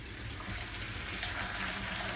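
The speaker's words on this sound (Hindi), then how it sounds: "तो थोड़ा पानी मैं इसमें और डालूँगी।" Water poured into a pot of soaked rice while cooking vegetable pulao, a steady broadband splashing pour heard close up and alone for about two seconds.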